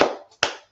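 Two short bursts of hand clapping, a loud flurry that fades over a fraction of a second, then a second sharp burst after a brief gap, with no talk.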